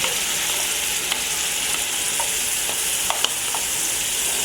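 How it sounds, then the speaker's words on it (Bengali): Sour yogurt mixed with spices meets a hot pan for doi mogoj (brain curry), giving a steady, even sizzle with a few faint clicks and spatters and no talking. "এখন আমি টক দইয়ের সঙ্গে সব মশলা মেখে নিয়েছিলাম, এটা আমি এর মধ্যে ঢেলে দেব।"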